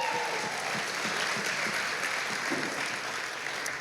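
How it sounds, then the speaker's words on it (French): A live audience claps for a volunteer called up on stage, a steady full round of applause from a large crowd lasting the whole stretch without a break. "Est-ce qu'on peut acclamer pour..."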